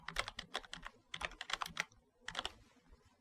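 Bursts of keystrokes on a computer keyboard, typed in quick clusters with short pauses between, close and clear with no talking over it.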